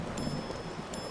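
Steady rain hisses in Fallout 4, a soft, even wash of droplets with a couple of faint ticking accents, low in level and with no talking.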